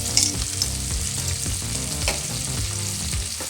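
Green chillies fry in a pan with salt for a spicy chutney, giving a steady, dense sizzle with light stirring throughout and no voices.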